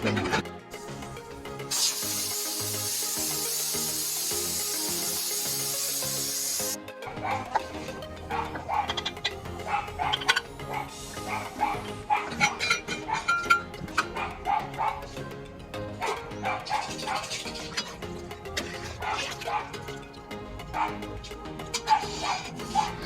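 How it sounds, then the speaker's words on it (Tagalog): A small dog yips and barks repeatedly in a home kitchen where beef papaetan is being cooked, the noisy bursts close and insistent, mixed with whimpers over steady cooking background noise. "Ay, ang ingay-ingay ng doggy"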